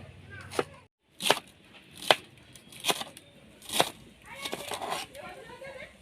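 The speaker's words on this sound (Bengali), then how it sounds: "একদম কুচি কুচি করে কাটতে হবে, চেষ্টা করি দেখি পারি কিনা কুচি কুচি করে কাটতে।" Cabbage being finely shredded with a knife for chicken momos, heard as a handful of sharp, separate chops at a slow, uneven pace, fairly close, followed by a burst of quicker cutting noise.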